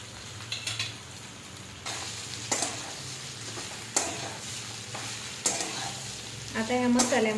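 Coriander vadi pieces stir-fried in hot oil with homemade red masala, a soft steady sizzle beneath repeated scraping strokes of a spatula against the pan.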